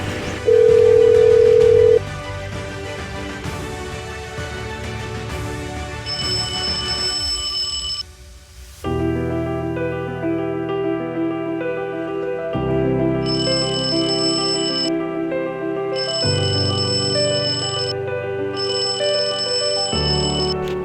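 A telephone rings unanswered in a Hindi short film about depression, its electronic ringtone repeating in loud bursts over a low musical backdrop.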